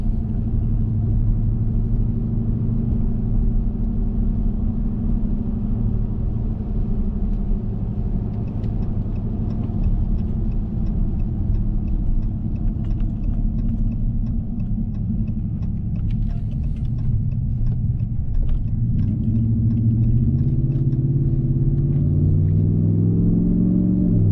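Steady low engine rumble, exhaust note and road noise from a 2019 Ram 1500 pickup driving at night in rain, continuous throughout with tire hum and a slight rise in pitch near the end.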